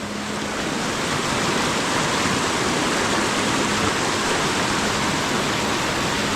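River water flows where a crab trap is being set in the Konkan countryside, a loud, steady broadband rush that continues without a break and covers everything else.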